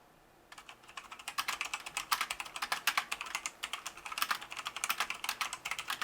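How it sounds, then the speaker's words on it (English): Fingers type on a Logitech G410 mechanical keyboard, producing rapid, uneven bursts of crisp key clicks and clacks after a brief quiet start. The typing is close and clear, with no talking. "Here's an audio sample of me typing on the keyboard."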